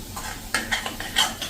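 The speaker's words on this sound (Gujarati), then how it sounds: "આ રીતે આપણે એને ચલાવતા જ રહેશું" Garlic chili paste is stirred in oil with a utensil, giving a short run of scraping, clinking strokes over a light sizzle, loud and close.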